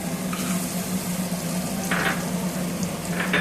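Garlic, grated coconut, turmeric and peanuts being sautéed in hot oil with cumin and mustard seeds, a steady close sizzle with brief scraping stir sounds from a spatula, no voices.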